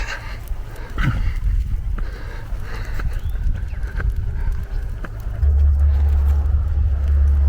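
A car passes on a quiet country road during a spring walk, a steady rising rumble that swells louder toward the end, with footsteps and faint rustling around it.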